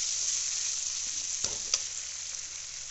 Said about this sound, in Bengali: এবার চাউটা দিয়ে দেবো।